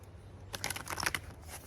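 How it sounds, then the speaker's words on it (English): A short burst of tarot card shuffling, quick soft riffling clicks lasting under a second against a quiet room. "So I'm going to shuffle one more time"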